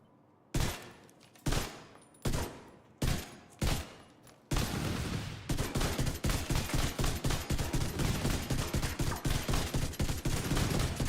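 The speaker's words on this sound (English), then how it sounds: "This is the rifle that shoots 2 bullets." A rifle in the video game The Division 2 fires five loud, evenly spaced single shots, then breaks into rapid sustained automatic bursts that continue to the end, close and dominant with no talking.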